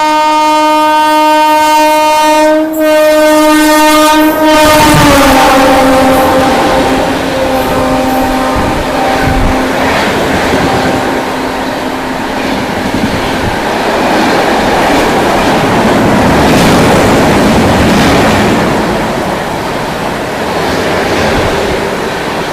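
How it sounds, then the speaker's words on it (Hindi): The Kolkata–Amritsar Akal Takht Express passes close by to overtake another train during heavy rain, opening with a loud horn blast followed by a long, roaring rumble of wheels and carriages. "और सामने से आ रही है अब कोलकाता अमृतसर अकाल तक एक्सप्रेस ओवरटेक करने सूबेदारगंज देहरादून एक्सप्रेस को।"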